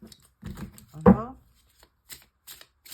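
Oracle card deck handled during a French tarot-style reading: a short burst of card shuffling and a crisp snap as one card is drawn, with quiet speech around it.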